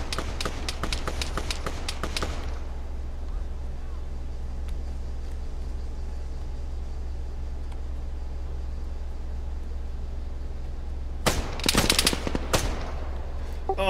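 Gunfire in the military game Arma 3: rapid automatic bursts open the passage, then a quieter stretch of low background rumble, and another sharp burst of shots near the end.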